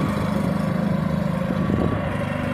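An inverter generator runs at a low, even hum, a steady close engine drone with no variation in level across the short stretch, and no voices over it.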